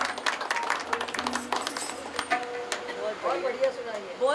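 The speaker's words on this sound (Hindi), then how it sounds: "एक बार ताली तो बजाओ" A crowd claps at a Hindu religious discourse in Kharghar, Mumbai, producing dense, steady applause that thins out after a couple of seconds, with voices mixed in.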